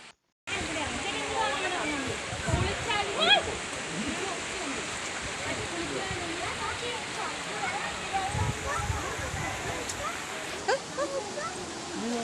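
Water rushes and gurgles steadily like a small stream or cascade in Kollengode, Palakkad, a constant wash of flow with faint voices mixed in underneath.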